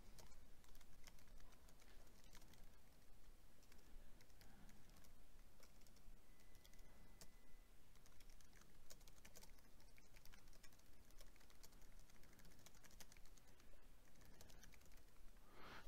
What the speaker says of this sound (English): So I'm going to begin typing.